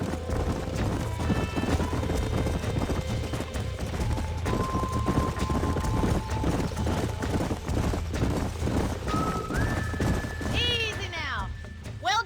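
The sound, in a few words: horses trotting and neighing in Red Dead Redemption video game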